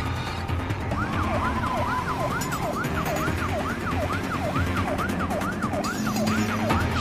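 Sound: ambulance siren

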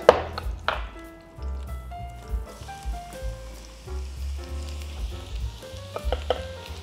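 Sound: onions sautéing in butter and olive oil

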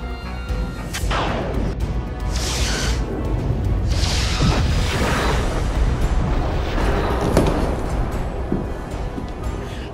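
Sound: starship weapons fire and explosions, sound effect

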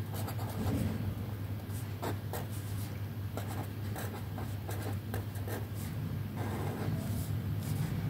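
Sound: pen writing on paper

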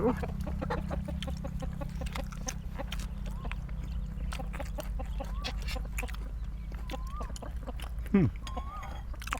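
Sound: chickens clucking outdoors

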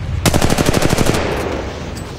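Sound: gunfire in video game Apex Legends Mobile

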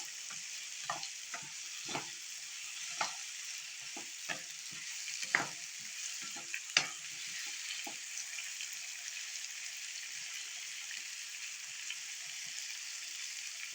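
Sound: ginger and garlic sautéing in oil with eggplant

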